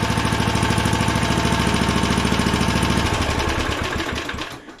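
A vintage heirloom lawn mower engine idles low with a rapid, regular chugging pulse that loud and close at first, then loses rhythm and dies away as it stalls near the end.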